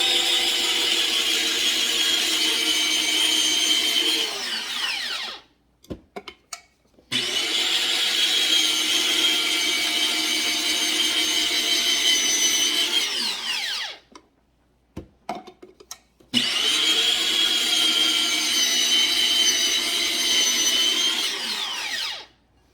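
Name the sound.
machine grating cheese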